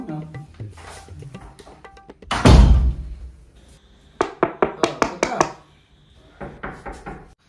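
A door is knocked on in bursts: a heavy thud, then a quick run of several sharp raps and another short series, close by, with talk between the knocks.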